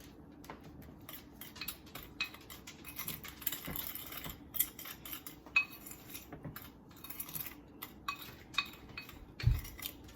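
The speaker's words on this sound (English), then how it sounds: "The sugar scratches up against the bowl." Granulated sugar mixed with cinnamon in a bowl, scraping and scratching against the bowl in a steady stream of small gritty clinks and rasps, close and fairly quiet, with no talking.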